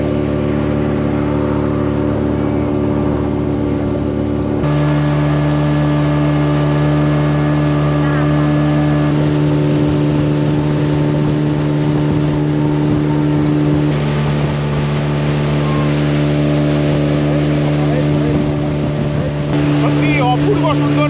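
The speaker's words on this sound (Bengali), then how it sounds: "স্টার্ট হয়ে গেছে আমাদের স্পিড বোটের ট্রিপটা।" Speedboat on a short lake trip near Jamshedpur, its engine droning loud and steady with a deep tonal hum, wind and water rushing past throughout, and a shift in engine pitch partway through.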